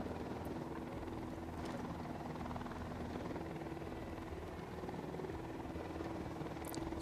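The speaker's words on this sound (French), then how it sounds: "Il y a un hélico en face de moi." A helicopter flies in the video game Ghost Recon Wildlands, its steady rotor and engine drone holding at an even level throughout, with no talking.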